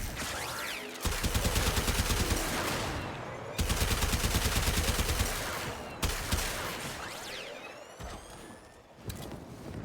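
Rapid bursts from a silenced shotgun-rifle in Warframe, long stuttering volleys of loud close shots in several runs with short gaps between them, plus a few single cracks.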